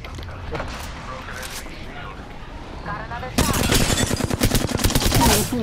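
Rapid automatic gunfire in a video game erupts halfway through as a loud, dense stream of shots, following a quieter stretch of game ambience with voices.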